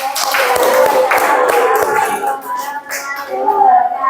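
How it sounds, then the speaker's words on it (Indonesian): A classroom group applauds after a presentation, brisk clapping from several hands mixed with children's chatter and voices, fading a little midway before picking up again. "Ya, tepuk tangan."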